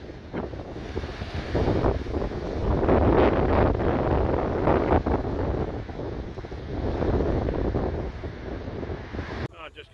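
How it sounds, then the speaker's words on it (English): Strong gusting wind buffets the microphone on a windy beach near Glyfada and Piraeus in Greece, with surf rumbling underneath; the roar swells and eases in waves before cutting off abruptly at the end. "Still very windy."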